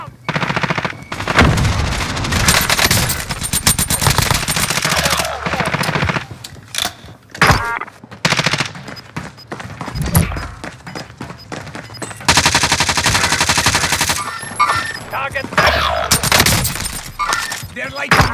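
In the video game Warzone on Rebirth Island, bursts of automatic gunfire aimed at the player crack loudly and repeatedly at close range, with rapid volleys and brief pauses, while short game voice lines play between the shots.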